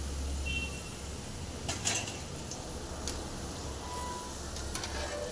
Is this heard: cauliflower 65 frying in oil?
yes